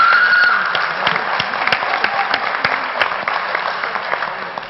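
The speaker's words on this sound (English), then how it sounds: "so a big round of applause for Dan" An audience at a school event applauds an AV technician, loud, even clapping from many hands fading slightly toward the end, with no talk over it.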